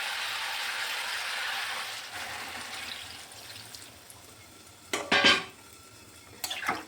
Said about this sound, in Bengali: এখন আমি এখানে পরিমাণ মতো জল দিয়ে দিচ্ছি